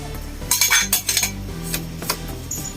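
Coconut milk and brown sugar sauce stirred in a pot for suman sa lihiya, giving a run of clinking utensil scrapes and taps against the pot over a low steady hum, with no voices.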